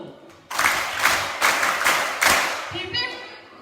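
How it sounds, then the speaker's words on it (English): An audience clapping together at a women's and girls' event, several sharp, loud bursts of unison claps in an uneven rhythm after a short murmur, ending with brief voices. "Let's give one big Bougainville clap"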